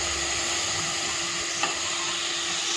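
Chopped mint and tomato hiss and sizzle steadily in a hot pan while being stirred, a close, continuous frying sound with one brief scrape of the utensil partway through.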